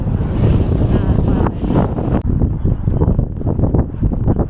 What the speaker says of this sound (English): that breeze has got up a bit, hasn't it?